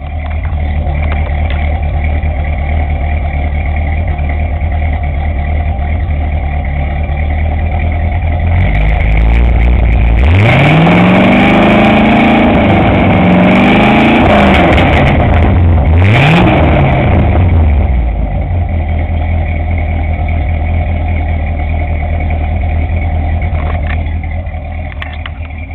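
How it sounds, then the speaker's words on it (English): A 1975 Chevrolet Corvette convertible with dual exhaust runs steadily at a loud idle, then revs up sharply twice in the middle before settling back to a smooth, close idle, with no talking. "Hope you hear it running."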